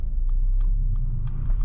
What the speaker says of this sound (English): I just throw the gear into reverse, and it's going to start parking itself.